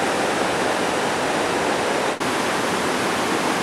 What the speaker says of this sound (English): Now following the brook up on the southern bank